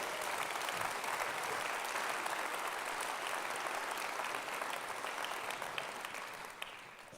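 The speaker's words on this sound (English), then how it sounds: "Let's give them a round of applause." Audience at the Liberal Democrat Spring Conference applauds the event crew with steady, full-room clapping that holds strong throughout and tapers slightly at the end.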